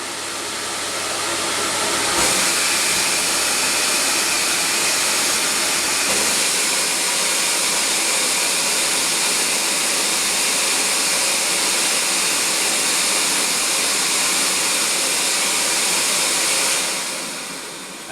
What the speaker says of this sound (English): the motor noise is much like a domestic vacuum cleaner at home